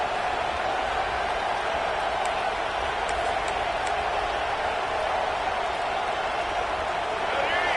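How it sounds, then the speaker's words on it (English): A dense, steady roar of a large football stadium crowd fills the air, constant and loud without pause, with occasional faint whistles above it. "It's early, but this crowd is fired up. Listen to this noise here."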